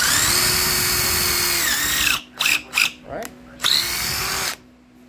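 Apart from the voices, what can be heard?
impact drill drilling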